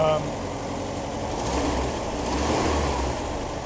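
A 1973 VW Squareback Type 3 engine idles steadily just after its first start-up, a continuous low rumble at slightly high idle with broad noise on top and no clear change in pace.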